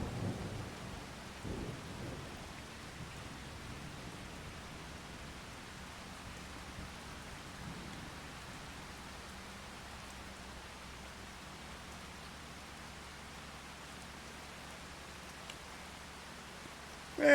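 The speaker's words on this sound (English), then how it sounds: "You can see you can't even hear the tractor from all the rain." Heavy rain and rolling thunder in the farming video game Farming Simulator 25, a steady wash of rainfall with low rumbling thunder most prominent early on, continuous and fairly quiet.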